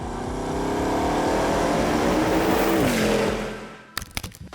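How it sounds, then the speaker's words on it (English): A Bugatti 8-litre quad-turbo W16 engine roars at high speed in a loud sustained pass with a rising and falling tone, then fades away, followed by a few sharp clatters. "The last ever outing of Bugatti's remarkable 8-litre quad-turbo W16 engine."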